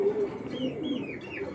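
A racing pigeon coos up close in a steady run of low, throaty, rolling calls that continue without a break, with no voices over them.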